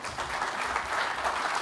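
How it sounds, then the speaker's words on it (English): Clapping from a conference audience at a risk management event as a speaker is called to the stage, a short, steady patter of moderate loudness with no talk over it. "Please, a round of applause for Luca."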